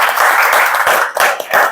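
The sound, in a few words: audience clapping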